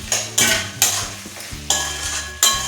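Chicken with spices and fried potatoes being stir-fried in a pan, a spatula scraping and knocking against the metal in repeated loud strokes about every half second over a steady sizzle.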